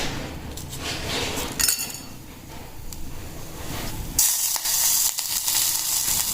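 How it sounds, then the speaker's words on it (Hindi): Whole spices tempering in hot oil for a tadka, a steady sizzling hiss with faint clinks, jumping into a brighter, louder crackle partway through. "सो लगा रही हूँ मैं अपने फेवरेट खड़े मसालों का तड़का।"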